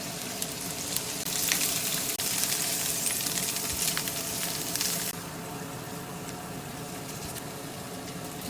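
Green onions frying in a little oil for kimchi fried rice, a steady close broadband sizzle that swells loudly for a few seconds and then settles to a quieter crackle, with no talking.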